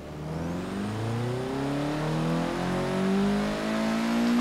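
A Honda Civic Type R engine in the Forza Horizon 3 racing game accelerates steadily, rising in pitch with a continuous whirring drone that stays loud and close from start to finish.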